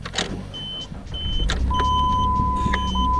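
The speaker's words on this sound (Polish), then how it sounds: "Dobra, zobaczę czy samochód odpali." A Jeep WJ off-road 4x4's engine cranks and starts on a morning after sitting overnight, rising into a steady idle rumble with a few chimes and beeps from the dashboard.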